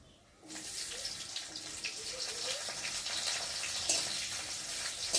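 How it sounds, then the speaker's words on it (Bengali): Whole cumin seeds drop into hot oil in a heated pan for tempering, and a sudden, steady hiss of sizzling starts and holds close up. "আর এখন এই যে জিরে ফোড়ন দেবো"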